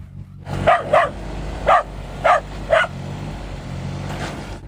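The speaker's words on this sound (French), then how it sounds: "Le chien le plus protecteur du jardin, Assier." A protective guard dog in a garden enclosure barks in a series of about five sharp, fairly close barks, set against a low rumbling engine hum in the background.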